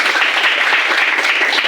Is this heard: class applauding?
yes